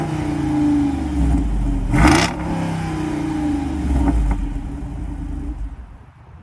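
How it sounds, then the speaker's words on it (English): A Dodge SRT V8 engine revs hard nearby, a deep loud rumble with sharp throttle blips around the middle and another push later before it settles and fades toward the end. "so you can actually hear what a beautiful SRT engine sounds like"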